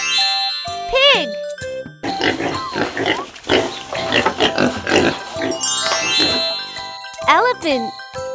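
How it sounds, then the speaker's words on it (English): A pig grunts and squeals in a busy burst of snorting oinks lasting several seconds, set amid jingling bell music and playful chime effects. "Pig."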